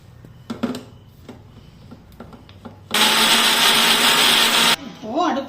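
A mixer grinder grinding tomato chutney roars loudly for about two seconds after a few soft clinks and knocks, then cuts off abruptly, and a brief voice follows.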